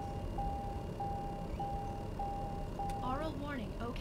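A TBM 930 cockpit aural warning in Microsoft Flight Simulator chimes as a steady, evenly spaced series of five clear tones over a low engine hum, followed by a voice speaking.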